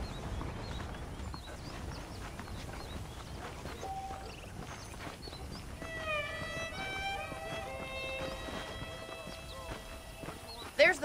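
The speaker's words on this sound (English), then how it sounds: "The horses are saddled up over here." Horse hooves clip-clop at a steady walking rhythm in the Red Dead Redemption video game, fairly faint under a man's speech and a music cue, with a brief louder clatter near the end.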